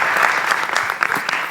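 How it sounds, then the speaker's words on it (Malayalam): An audience claps together in a dense, steady burst of applause at a comedy show, loud and close, filling the whole moment with no other sound standing out. "സന്തോഷമെങ്കിൽ ഒന്ന് കൈയടി എൻ്റെ മക്കളെ."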